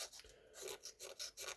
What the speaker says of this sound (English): be careful that you don't have the sandpaper going over the rim and start to